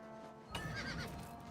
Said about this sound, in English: You made me shoot my horse!